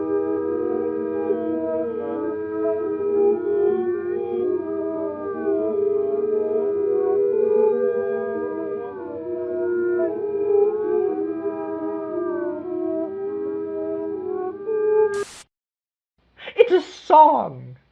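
An eerie, whale-like song attributed to giant behemoth creatures: long wavering, gliding tonal calls layered over a low drone, steady and moderately loud, ending in a brief silence and a few sharp bursts.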